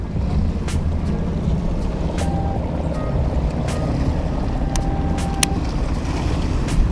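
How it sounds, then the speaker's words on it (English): Strong wind blows steadily across San Diego Bay while fishing from a boat, a constant roaring rush buffeting the microphone, with a few faint clicks and taps. "It's pretty damn windy right now."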